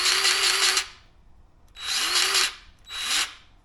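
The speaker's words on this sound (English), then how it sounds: "Let's grease this up. Got the Bauer 20 volt here." A Bauer 20 volt cordless grease gun greases a bent loader bracket in three close, loud motor bursts, a long one then two shorter ones, each a steady whine that rises and cuts off, with quiet gaps between.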